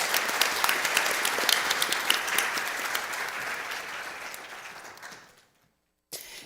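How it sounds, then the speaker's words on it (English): Audience applause for the panelists at the Korea-LAC Innovation & Trade Forum: dense, steady clapping from a full room that fades out over about five seconds, then falls silent before a brief new sound at the end. "I offer a round of applause to our panelists."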